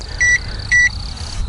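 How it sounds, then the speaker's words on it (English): A Mighty Mule remote gate-opener keypad gives two clear, evenly spaced electronic beeps, close and steady, over a low background hum, with no voices. "So we got the 3 beeps as feedback that tells us that that code was deleted from memory."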